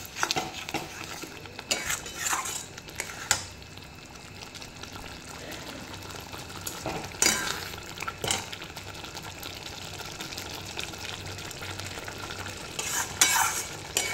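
Spices with salt, chili powder, Kashmiri chili and turmeric stirred and fried in oil, a continuous soft sizzle broken by repeated scraping and clanking of a utensil against the pan, close and steady throughout.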